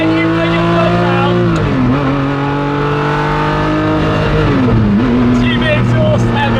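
A Ferrari F40 accelerates hard along a hairpin mountain road, its loud engine and exhaust roaring and rising in pitch, dipping briefly twice as it shifts or lifts before pulling again, with voices faint underneath.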